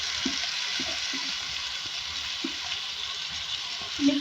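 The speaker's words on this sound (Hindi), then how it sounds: "फ्राई करेंगे। इसमें आलू और सेम ऐड करेंगे कटे हुए बारीक" Finely chopped potatoes and beans frying in oil with onions in a pan, making a steady, close hiss with a few soft stirring knocks and no talking.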